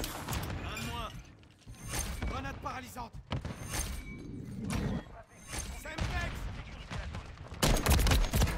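Gunshots in a video game sound in scattered bursts and single cracks, with mechanical clicks and shattering noises around them. Someone talks over much of the firing.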